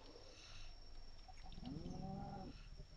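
Cattle mooing in Minecraft, a low drawn-out synthetic moo rising and falling in the second half over a steady game background, with no talking.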